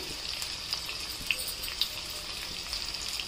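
Chana dal fries in hot oil with cumin and mustard seeds in a pan, giving a soft, steady sizzle with a few faint pops and crackles, quiet and close, with no voices.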